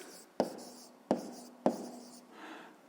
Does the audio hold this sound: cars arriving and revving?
no